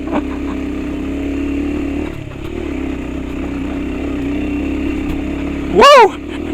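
A trail bike motorcycle chugs steadily at low revs while riding a steep track toward a beach, then a brief loud rising-and-falling rev near the end; someone speaks briefly amid the engine.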